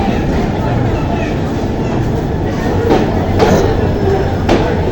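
A passenger train arriving at Mohanganj railway station in Bangladesh rumbles loudly nearby with clanking metallic bursts and rolling noise, a continuous heavy din without clear talk.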